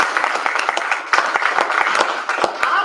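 An audience at a community evening event in Horry County claps in a brief, lively burst of steady hand claps, close and fairly loud, with no talk over it.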